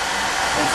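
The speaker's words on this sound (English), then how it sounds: "Hair dryer." A hair dryer blows with a steady, broad airy hiss during a photoshoot, loud and constant from start to finish with no talk over it.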